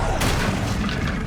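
A Glacius ice spell cast in the video game Hogwarts Legacy lands as a loud, booming burst with a sharp onset, followed by a dense rumbling wash that fills the short moment.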